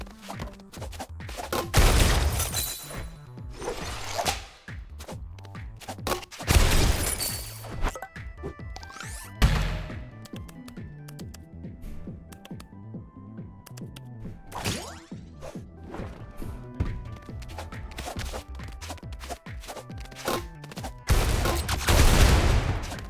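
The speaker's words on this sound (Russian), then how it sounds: "Bullets explode." Exploding bullets in the video game Rounds fire as irregular bursts of gunshots and sharp explosive cracks across the whole stretch, with some heavier clusters, fairly quiet overall.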